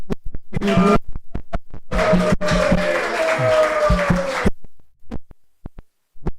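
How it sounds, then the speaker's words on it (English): A crowd claps steadily for a few seconds, the applause swelling and then stopping abruptly, with a few isolated knocks and taps before and after. "Let's give a nice round of applause."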